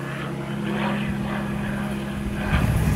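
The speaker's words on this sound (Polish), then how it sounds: "I jeszcze samolot w ogóle leci." A propeller airplane drones overhead outdoors near a tent, a steady low hum that holds throughout and swells slightly louder toward the end.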